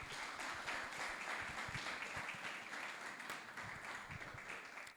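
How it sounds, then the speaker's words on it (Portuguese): Congregation in a church service claps hands in praise, a quiet, steady wash of many hands clapping together, somewhat distant and continuing evenly for about five seconds. "As palmas louvam o Senhor."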